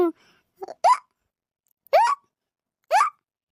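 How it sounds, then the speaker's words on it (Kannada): A series of sharp, short hiccups, about four of them, spaced irregularly in an otherwise quiet room. "ನಿಮ್ಮನ್ನ ಯಾರೋ ನೆನೆಸ್ತಾ ಇದ್ದಾರೆ ನೋಡಿ, ಇಷ್ಟು ಬೇಕಳಿಕೆ ಬರ್ತಾ ಇದ್ದಾವೆ"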